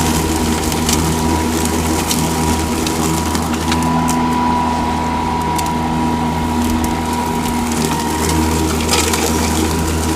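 A Toro Super Recycler walk-behind lawn mower cuts grass with a steady, fan-like drone and faint crunching of clippings, continuous and close with no talking.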